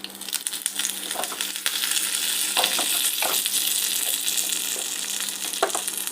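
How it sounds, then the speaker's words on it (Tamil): Dried red chilies and curry leaves fry in hot oil for a tempering for brinjal kadayal, giving a steady close sizzle that thickens after the first couple of seconds, with scattered crackles and pops and no talking. "பொரியுது. 2 காஞ்ச மிளகா போட்டுக்கலாம்."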